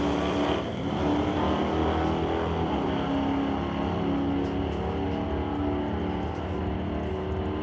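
A 1969 Chevrolet Camaro and a Cuda launch side by side at an old-time drag strip, their engines a loud, sustained roar that holds steady as the cars pull away down the track.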